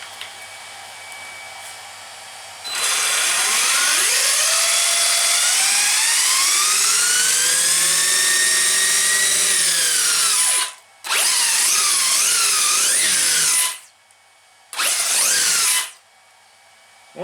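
A Serpent RC truggy drivetrain on a bearing test gives a loud, high electric whine that sweeps up and down in pitch, runs steadily for several seconds, then cuts out and restarts in shorter bursts.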